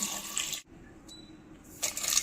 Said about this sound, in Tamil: இதுக்கு தேவையான தண்ணி ஊற்றிடலாம்